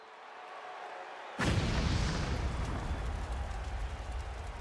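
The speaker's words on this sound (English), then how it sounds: "No, he lit Baby Coke holding firecrackers on fire" Firecrackers going off at a pro wrestling match: after a quiet crowd murmur, a sudden loud burst erupts at once and gives way to a dense, sustained crackling roar that slowly fades.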